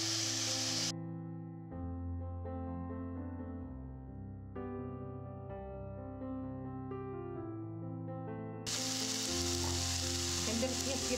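Sliced champignon mushrooms frying in a pan for a vegan dinner, a bright close sizzle heard clearly at the start and end, with music covering the middle stretch.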